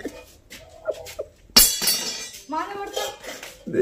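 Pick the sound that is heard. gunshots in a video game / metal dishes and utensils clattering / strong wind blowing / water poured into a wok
metal dishes and utensils clattering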